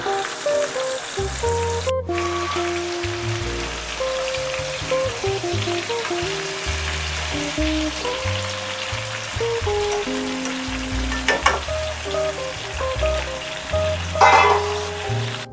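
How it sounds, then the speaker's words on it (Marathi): Steady sizzling of Bombay duck fish frying in hot oil, continuous and close, with a few brief louder crackles and clinks near the end. "बोंबील फ्राय होत आहेत"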